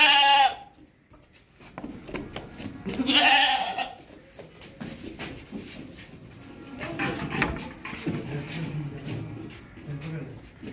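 A healthy, long-eared Eid Qurbani goat standing alone bleats loudly several times, close by, with shorter calls and background noise in between.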